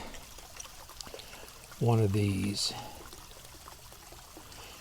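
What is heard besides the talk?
POPOSOAP solar fountain pump spraying water into bird bath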